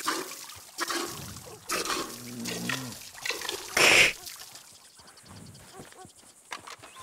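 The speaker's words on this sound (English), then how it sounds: "Let's milk some cows." Milking a cow in the video game Red Dead Redemption 2, with irregular liquid squirts and trickles, a few soft thumps and a brief brighter splash, moderately close amid ambient game noise.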